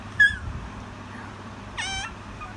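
A small child imitates a cat's meow twice, a short high mew followed by a longer wavering one, close and clear against quiet room noise.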